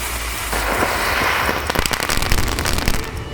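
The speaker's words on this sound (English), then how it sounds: "I used a firecracker to simulate this." A firecracker sets off a crackling burst of sharp pops standing in for a car bomb under a vehicle, a dense, loud run of snaps that grows more scattered and punchy toward the end, with no voices.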